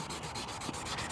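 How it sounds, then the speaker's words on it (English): Sanding the old headlights of a Toyota Avalon with 800 grit sandpaper, giving close, steady rubbing strokes in a quick repeating rhythm over a brief stretch. "all I'm doing is sanding this down with 800 grit"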